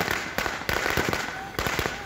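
Fireworks set off by TMC party workers celebrating an election win in West Bengal, a dense stream of sharp firecracker bangs crackling repeatedly in a noisy outdoor crowd.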